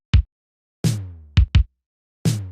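Simple programmed drum pattern with sharp snare hits and booming kick drums, ending in a quick kick drum fill; five dry, punchy hits spaced unevenly, two with long tonal decays, nothing else around them.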